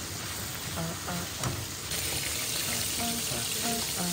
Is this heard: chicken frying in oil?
yes